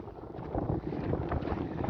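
Strong wind buffets the microphone in a continuous rumbling roar at Jebel Fihrayn near Riyadh, Saudi Arabia, with gusts rising and falling throughout.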